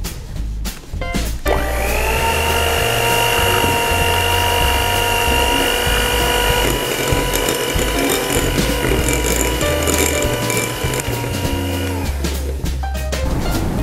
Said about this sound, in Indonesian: Masukkan lagi, di mixer hingga tercampur rata